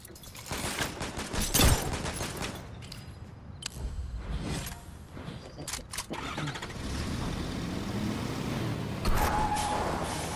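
Video game gunshots crack in quick bursts over engine-like rumble, a loud cluster near two seconds, more scattered shots after, and a steady drone through the second half.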